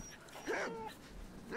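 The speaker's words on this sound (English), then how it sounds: "Lots of dogs in this town again." A dog in the survival video game DayZ gives a couple of short, faint yelping barks in a town, with a quiet background hum between the cries.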